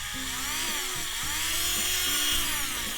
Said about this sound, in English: I'm going to go ahead and use my my roto tool